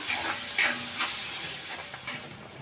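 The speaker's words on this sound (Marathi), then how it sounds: "आता कांदा लालसर होईपर्यंत परतून घ्या" A medium onion sautés with asafoetida and curry leaves in a pan, giving a continuous bright sizzle with soft periodic stirring scrapes, close up and without speech.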